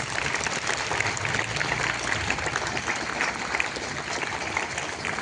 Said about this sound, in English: Let's express our heartfelt thanks with a thunderous round of applause